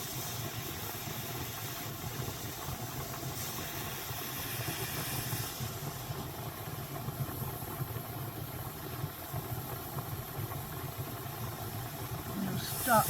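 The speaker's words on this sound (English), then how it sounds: "the steam kettle" Steam kettle hissing steadily as carded fibre batts are steamed, a continuous broadband rush with a low rumbling undertone that holds at an even level for the whole stretch.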